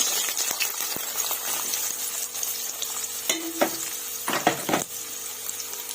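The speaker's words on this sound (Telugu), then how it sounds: "ఆయిల్ కొంచెం వేడెక్కింది. 2 మీడియం సైజు ఆనియన్స్ కట్ చేసుకొని వేసేసుకుంటున్నాను." Two medium onions, cut up, sizzle and crackle in hot oil in a kadai, with stirring scrapes and a few clinks of the utensil against the pan, steady and close with no talk.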